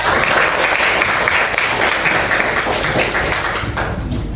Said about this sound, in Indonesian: tepuk tangan buat Abi ya